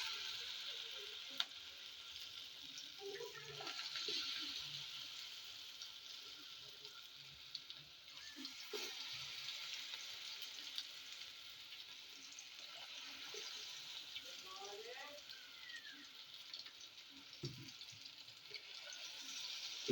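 Potato pakoras fry in hot oil with a soft, continuous sizzle and faint bubbling, a low hiss running throughout, broken by occasional small clinks and splashes as more batter is added.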